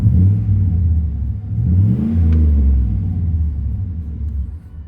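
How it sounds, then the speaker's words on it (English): A Chevy 2500 LT two-wheel-drive pickup revs its exhaust, heard from inside the cab with the window down: a deep, loud rumble climbs and falls back in one sustained pull. "I've left the window down just so we can kind of hear the exhaust a little bit, but I'm gonna go ahead and peg it out a little bit."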